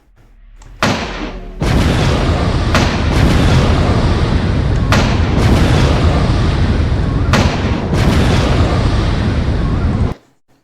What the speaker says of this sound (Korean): 대포에서 소리가 나는 것까지 우리가 직접 구현을 했습니다.